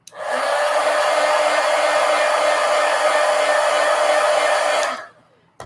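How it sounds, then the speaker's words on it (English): A heat gun blows steadily and loudly for about five seconds to dry paint on a Halloween piece, a broad even hiss that cuts off abruptly near the end. "let me hit that with the heat gun because that's got to be dry before I go over those lines"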